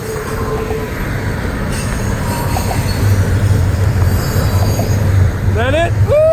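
A long northbound FEC freight train hauling trailers in South Florida rumbles past close by with a steady roar and wheel squeal, and a short rising whistle-like squeal near the end.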